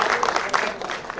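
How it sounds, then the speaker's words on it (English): An audience at a film trailer launch clapping for two banjo musicians, a brief burst of crowd applause with a voice speaking over it. "Can we have an applause for our two musicians here?"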